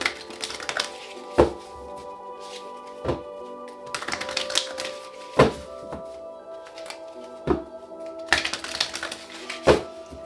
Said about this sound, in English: Get 2 more shuffles.